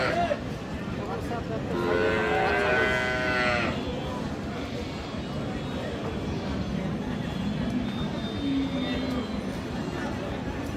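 A Sahiwal cow at a cattle market in Aftabganj, Dinajpur lets out one long, loud moo under ongoing crowd chatter. People talk nearby throughout the market bustle.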